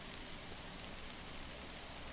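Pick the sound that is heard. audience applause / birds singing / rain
rain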